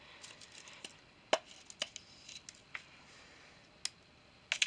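Dry noodles snap and crack in a handful of sharp, irregular breaks spread over several seconds against a quiet background, with no talking.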